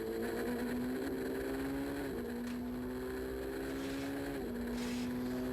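A rally car in the 2012 European Rally Championship screams down mountain roads, its engine holding a loud, steady high drone with brief dips at gear changes every couple of seconds.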